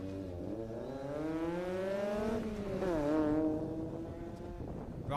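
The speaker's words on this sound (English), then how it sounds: "Steve Simon just left line in the number 78 Honda S2K." A Honda S2K race car leaves the start line at a Daytona solo autocross event, its engine revving up through the gears in rising harmonic sweeps, loud and fairly close, then fading slightly as it pulls away.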